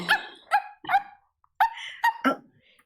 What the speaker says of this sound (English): You can hear the barks of Rex echoing throughout the cavern.